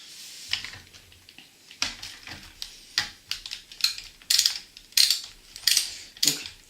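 Small screwdriver driving screws into plastic parts of a DeLorean scale model kit, a series of close, dry clicking and ratcheting bursts that grow denser and louder toward the end, with quiet gaps between turns.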